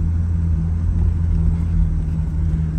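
A 1963 Avanti rolls down the road with its hood propped open, a steady loud low engine drone and road rumble holding evenly throughout, no voices.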